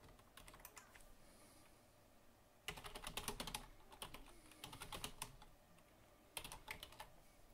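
Fingers type steadily on a computer keyboard, clicking in quick close bursts separated by short pauses, with no one speaking.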